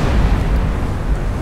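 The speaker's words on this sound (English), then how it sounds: "That was a big explosion right there." Ship blowing up in the submarine game Silent Hunter 4, a loud, dense, rumbling roar of explosion sustained throughout with heavy low-end boom and no voices.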